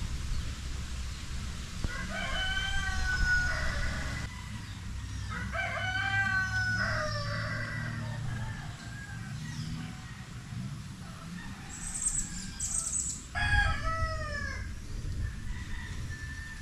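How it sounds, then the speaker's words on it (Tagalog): A rooster crows several times in drawn-out calls, with other birds chirping and a steady low rumble of distant highway traffic underneath. "Naririnig mo lang yung mga manok, ibon."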